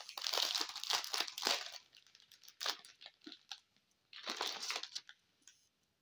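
Small satin-finish white paper envelopes are handled, giving crisp crinkling and rustling in irregular bursts separated by short quiet gaps, close and fairly soft.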